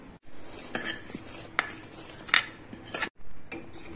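Cooking kheer: rice stirred into milk in a pot with a spoon, giving several sharp metallic scrapes and taps against the pot at irregular moments, close and fairly loud over a quiet background.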